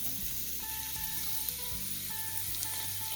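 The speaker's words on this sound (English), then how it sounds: "The rosemary oil is getting so aromatic, so we're just going to add our shallots to this." Shallots sautéing in hot, aromatic rosemary oil for a roasted pumpkin soup give a steady, close sizzle that continues without pause, with a few faint stirring knocks and no voices.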